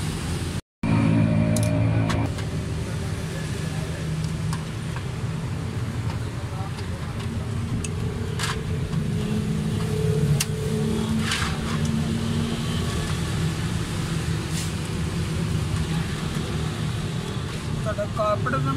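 A Suzuki Cultus three-cylinder car engine runs with a misfire, giving a steady, close, loud mechanical drone with a brief dropout near the start.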